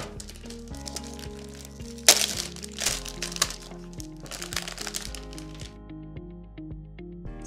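Plastic protective film being peeled off a Logitech G915 Lightspeed keyboard, with close crackling, crinkling and crunching bursts over a faint background tone.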